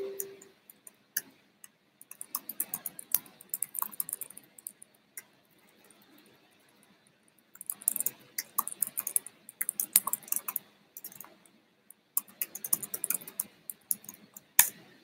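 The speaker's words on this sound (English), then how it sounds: "let's type it." Bursts of fast clicking keystrokes on a computer keyboard come in several clusters separated by pauses, quiet and close.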